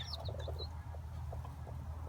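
Young chickens in a farm hatching setup give off soft, repeated peeps and clucks over a steady low hum, close by and fairly quiet throughout.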